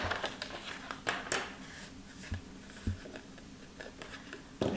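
Paper corners being trimmed with scissors for a small handmade album, with a few sharp close snips and light paper rustling and handling between cuts, quiet and without talk.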